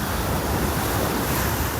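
Ocean waves breaking on a beach in North Naples, Florida, heard as a steady, broad wash of surf with wind noise on the microphone, continuous and fairly loud with no voices.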